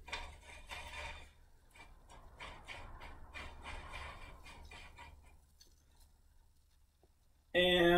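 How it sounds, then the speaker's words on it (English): A metal pommel is screwed back onto the tang of a Fiore tournament feder training sword, giving a series of small close clicks and scraping metal ticks under a quiet room, then a sudden loud burst at the end. "Thread the pommel back on."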